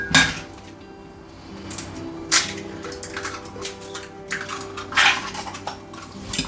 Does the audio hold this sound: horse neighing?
no